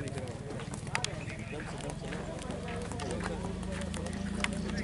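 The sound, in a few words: horse hooves clip-clopping as it is walked around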